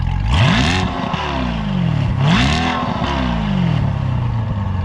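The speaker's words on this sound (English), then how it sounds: "This thing has a Soul Performance exhaust on it, and as you guys heard a little bit ago, it is very, very loud" A C8 Corvette with a Soul Performance aftermarket exhaust revs loudly twice, each blip rising sharply and falling back to a rumbling idle, no talking.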